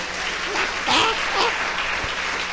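Brief clapping from a church congregation during a sermon, a short burst swelling and fading over a couple of seconds, with cries and raised voices riding over it.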